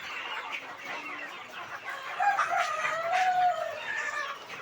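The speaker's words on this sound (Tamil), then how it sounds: "இந்த 3 சேவல் நேற்று வாங்கிட்டு வந்தோம்" Roosters crow and cluck nearby, a drawn-out cock-a-doodle call rising over scattered clucks, moderately loud with quiet surroundings.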